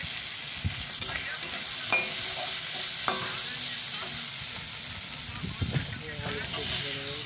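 Chilies and turmeric hit hot oil in a pan and sizzle steadily. Sharp scrapes of stirring come through at intervals while a voice speaks over the frying.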